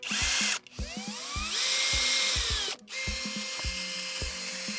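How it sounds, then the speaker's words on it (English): A power drill whirs in loud sustained bursts, briefly stopping twice, with a rhythmic mechanical clicking underneath as the bit grinds through two metal pieces for parts on a 2019 BMW X3 M40. "Drilled through both pieces."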